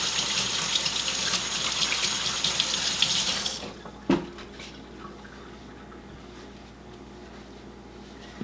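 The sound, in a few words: rinsing hands under running tap water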